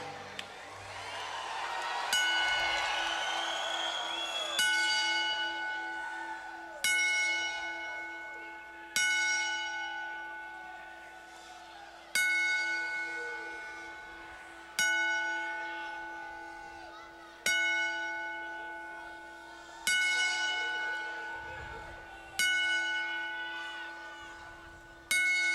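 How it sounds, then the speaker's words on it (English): A bell tolls ten times in tribute at a wrestling event, each strike ringing out and decaying slowly at a steady interval, with a faint crowd murmur beneath. "may I ask you to please rise as we toll the bell 10 times and pay our respects to Owen Hart."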